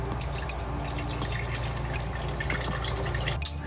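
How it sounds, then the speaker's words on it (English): Water runs from a faucet into a container inside a Winnebago Revel camper van, a steady close splashing stream that continues throughout and ends with a brief clunk. "Let's fill this guy with some water."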